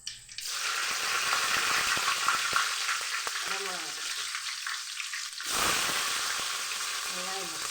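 Mustard seeds and cumin sizzle and crackle in hot oil, tempering a spinach gravy. The frying is loud and continuous with light stirring clatter, briefly cut off and then resumed. A few faint voice-like tones sit underneath.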